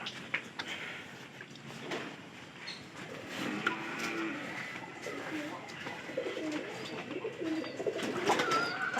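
A carrier pigeon that seems sick, cooing softly in low, repeated calls at close range, with a person talking quietly in the background.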